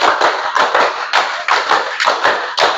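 Loud, close group hand clapping in a steady rhythmic pattern, about a dozen sharp claps in quick succession, no talking.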